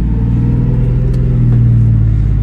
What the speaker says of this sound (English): driving around the block.